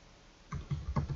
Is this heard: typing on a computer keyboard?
yes